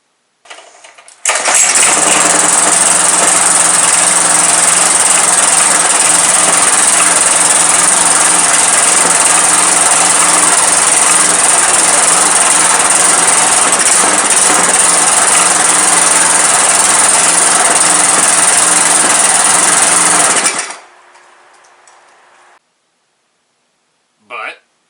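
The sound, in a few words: rebuilt engine running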